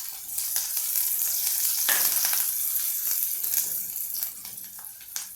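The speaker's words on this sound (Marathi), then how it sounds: "थोडा कांदा मी यामध्ये घातला आणि याला आता आपण छानपैकी हलवून घेऊ" Onion sizzles in a pan over lowered heat for a green field-bean curry, a constant close frying hiss broken by repeated spatula scrapes as it is stirred.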